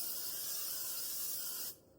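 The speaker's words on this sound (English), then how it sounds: "spray our pan," A can of cooking spray hisses onto a cake pan in one steady, close burst lasting under two seconds before cutting off.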